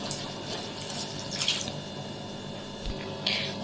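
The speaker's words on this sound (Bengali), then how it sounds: "আবার সামান্য পরিমাণে একটু জল দিয়ে দেবো।" Water poured into a pan of broccoli and potato curry made with yogurt paste, a faint, steady trickle with two brief louder splashes, heard alone in a quiet kitchen.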